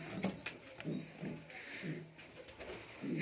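Fancy pigeons in a loft coo in a repeated rhythmic series of soft, low throaty calls, close by and fairly quiet, with faint background noise between the coos.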